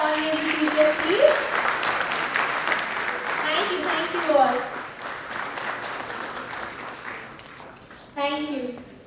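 Audience applause for the chief guest at an international sports and exercise medicine conference, a moderate wash of clapping under overlapping voices, thinning out before a brief spoken thanks near the end.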